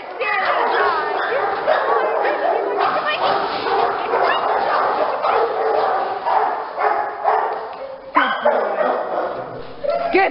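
A dog yips, barks and whimpers in excited bursts close by, with a person's voice mixed in among the noises.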